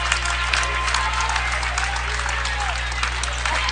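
A basketball crowd at a boys' section semifinal rises in a sustained standing ovation, dense applause and clapping filling the gym continuously with a steady low hum beneath.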